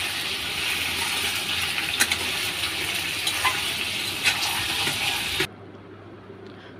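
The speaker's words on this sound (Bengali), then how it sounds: "এখন দিয়ে ভালো করে এখন নাড়াচাড়া করে আলুগুলো তেলে ভেজে নিচ্ছি।" Potatoes fry in hot oil while being stirred, giving a loud, steady sizzle with occasional sharp scraping clicks. The sizzle cuts off abruptly near the end, leaving only a faint low hum.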